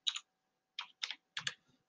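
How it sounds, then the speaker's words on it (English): Typing a web address on a computer keyboard in a quiet room: a quick burst of close key clicks, a pause, then three more short clusters of tapping. "type in the address bar"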